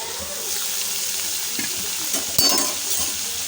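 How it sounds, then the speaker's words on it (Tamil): Tomato and capsicum are stirred into hot tempering in a pan, giving a steady sizzle with soft scraping and stirring clatter up close. "சேர்த்துட்டு கலந்துக்கோங்க தாளிச்சதோடு சேர்த்து மிக்ஸ் பண்ணிக்கலாம்"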